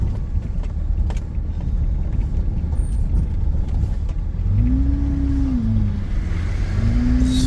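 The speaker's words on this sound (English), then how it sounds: "That's another water tender." A water tender fire truck rolls past on a forest road during the Line Fire, a steady close engine rumble under constant road noise, its pitch rising and swooping in the final seconds as it goes by.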